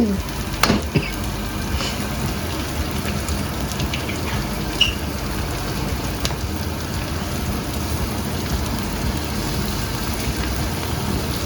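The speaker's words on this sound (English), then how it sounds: "Do you want me to stir and you'll get the egg?" Egg is stirred into prawn fried rice frying in a hot pan, giving a steady, fairly quiet sizzle with occasional scraping clicks from the stirring.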